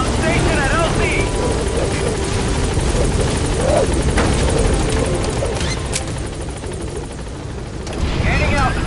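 Helicopter arriving at a landing zone in Metal Gear Solid V, with loud, continuous close rotor thumping and engine roar that swells and dips as it approaches and settles.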